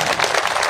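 Applause from a rally crowd at a Jatav mahapanchayat, a brief, dense wash of many hands clapping at once, loud and continuous without any voices.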